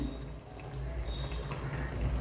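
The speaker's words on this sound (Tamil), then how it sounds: "இப்போ ஒரு 1/2 டம்ளர் போல் வந்து தண்ணி சேர்த்துக்கிறேன்." Half a tumbler of water pours into rice for chicken biryani, giving a continuous, close splashing trickle at low level, with no talk over it.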